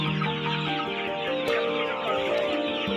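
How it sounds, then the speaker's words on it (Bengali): Sonali chickens cluck steadily at a poultry farm in an open field, a dense, continuous chorus of many birds close by with no voices over it. "মুরগি ঘোরাফেরা করতে পারে ভালো।"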